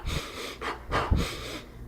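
A voice mimics a newborn's labored, wheezing breathing in a Mount Sinai hospital in New York, with raspy, close breaths in an uneven pattern of inhales and exhales.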